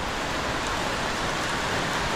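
Heavy, steady rain pours down continuously outside a house, a dense even hiss of drops on surfaces with no pauses, close and moderately loud with no talking.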